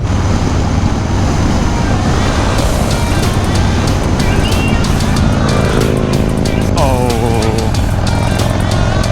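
A Harley-Davidson Low Rider S 114 cruiser rides along an open road, its engine droning continuously under heavy wind rush, with passing traffic and some bright intermittent noises partway through.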